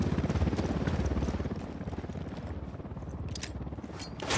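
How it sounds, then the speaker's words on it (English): A helicopter in the video game Ghost Recon Wildlands gives off a steady, pulsing rotor thump that runs loud and close throughout, with a few sharp higher noises near the end. "Copter, get down."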